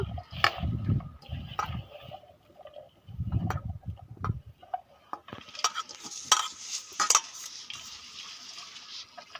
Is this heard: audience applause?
no